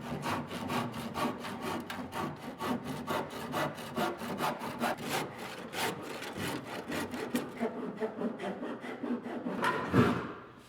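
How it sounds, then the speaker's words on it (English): A handsaw cutting wooden planking on a plank-on-frame lobster boat, with steady, rhythmic rasping strokes close up that continue evenly before ending in a louder final stroke. "Take the handsaw and"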